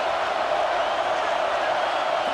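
Stadium crowd at a Florida vs Ohio State football game, a dense, steady roar of many voices holding constant throughout, with no breaks.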